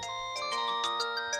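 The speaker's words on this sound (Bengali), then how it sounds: "বল্টুর ফোন, আবার কি হলো কে জানে।" A cartoon mobile phone rings with a bright electronic melody of quick repeated tones, clear and alone.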